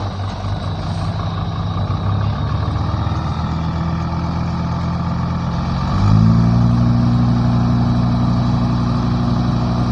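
A farm tractor engine runs steadily and loud close by, holding an even idle-like drone before stepping up to a higher, stronger pitch partway through as it works a field.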